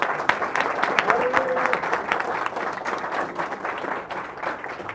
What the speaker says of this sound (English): let's give a round of applause to our good brother, Irritated Genie, in the back